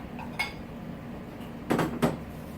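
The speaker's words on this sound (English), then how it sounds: "Two salad bowls." Two salad bowls set down on a kitchen counter while preparing a classic spaghetti and meat sauce dinner, giving a couple of close, hard clunks near the end, with a lighter clink earlier and no talking.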